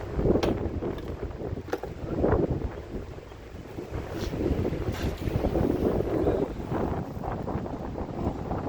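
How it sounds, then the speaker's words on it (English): Strong, gusty winter wind buffets the microphone outdoors near unfrozen water during a polar vortex cold snap, a continuous low rumble swelling and easing in waves with no speech. "That wind is gonna whip my tripod everywhere."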